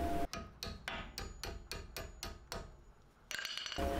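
A run of about ten sharp metallic hammer taps on a brake pad pin of a 1983 Mercedes 380SL, at a steady rhythm, close and fairly loud, followed by a brief scraping clatter.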